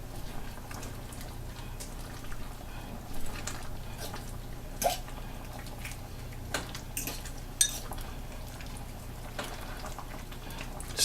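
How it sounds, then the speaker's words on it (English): A spoon stirs chicken stew with peas and a whole Scotch bonnet pepper in a pot, giving scattered faint clinks against the metal over a steady low kitchen hum. "Stir that around a little bit."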